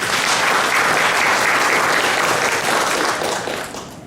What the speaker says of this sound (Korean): 큰 박수로 발표 들어보겠습니다